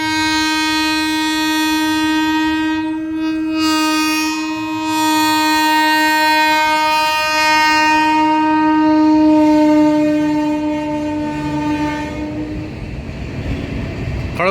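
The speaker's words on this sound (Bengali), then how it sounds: "এক্সপ্রেস খড়গপুর থেকে হাটিয়ার দিকে যাচ্ছে।" The Kharagpur–Hatia Express passes near a road underbridge site in Purulia, its loud sustained horn blaring for about twelve seconds over a rumbling train, then the roar of wheels and cars takes over as the horn fades.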